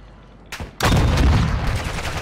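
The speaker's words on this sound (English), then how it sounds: "we're gonna try and take him out with this rocket launcher" A rocket launcher fires at a boss in the Call of Duty DMZ video game: a short click and whoosh, then a loud, sustained blast that booms and rumbles on close by.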